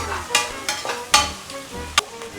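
Onion sautés in a pan, a low hiss punctuated by four sharp scraping stirs of a spatula at irregular intervals, close and fairly loud.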